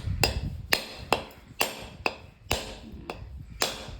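A knife chops through firm food on a board, eight sharp, evenly spaced thuds with brief ringing clicks, close and fairly quiet.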